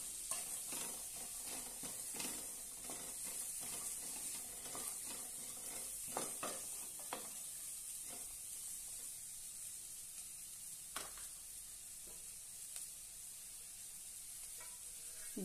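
Farsan is stirred in a pan, with a faint, steady frying hiss running under repeated scraping and spatula knocks spread across a long, quiet stretch.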